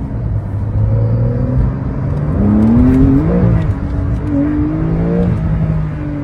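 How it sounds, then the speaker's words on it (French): A Porsche 992 Carrera S, a 450-horsepower rear-wheel-drive car, accelerates hard, its engine note climbing and shifting through gears with rising and falling pitch sweeps. It is heard loud and close from inside the car, with no talking. "On appuie sur l'accélérateur."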